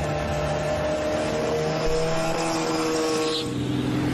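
A hovercraft with a 65-horsepower engine, built to reach 70 km/h, drones steadily and loudly throughout, with a constant mechanical hum and no voices.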